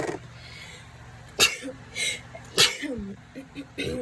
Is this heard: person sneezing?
yes